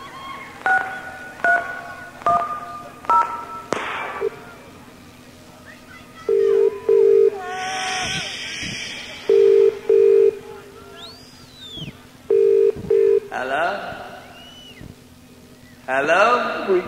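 Telephone keypad tones beep in short clusters on stage during a stadium concert tour in Dublin, 1993, set against crowd noise and a low musical drone with occasional voices.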